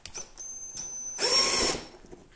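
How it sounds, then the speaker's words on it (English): A power drill bores holes into a Ski-Doo snowmobile glovebox lid, giving short whining bursts close by and then a louder, rougher grinding stretch as the bit cuts through, heard alone. "So I'm going to just drill these holes out."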